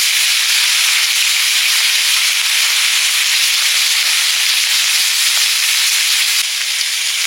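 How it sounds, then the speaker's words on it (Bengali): A pair of hilsa fish heads frying in hot oil, giving off a loud, unbroken sizzle and hiss that holds steady the whole time with no voices. "জোড়া ইলিশ মাছের মুড়ো, জোড়া মুড়ো ভেজে নেব"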